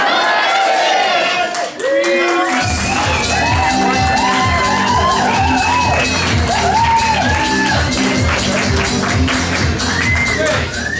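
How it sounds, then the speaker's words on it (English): A comedy improv theater audience yells a cue together, loud and sustained, followed by mixed cheering, whooping and clapping across the crowd. "on the count of three, let's yell, blue team come back in"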